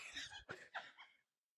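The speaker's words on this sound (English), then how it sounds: "Christians stay coughing into the fucking mic like he's singing" A man coughs into a podcast microphone, three quick harsh bursts close to the mic, then silence.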